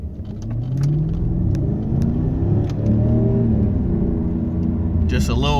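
A large Mercedes car accelerates with a steady rising engine drone and whirring tones heard from inside the cabin, with a voice talking over the engine.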